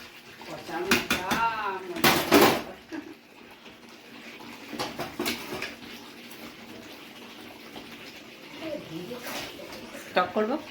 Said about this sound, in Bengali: এইবার ভালো করে একটু নাড়িয়ে চুড়িয়ে দেবেন